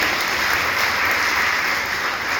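A crowd at a rally for ASHA workers' and group promoters' minimum wage and social security demands in Baramati claps loudly and steadily, a dense, continuous applause with no talking over it.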